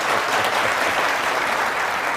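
A studio audience at a televised Pakistani political debate show applauds in a full, even roar of clapping that holds steady throughout, with no talk breaking through.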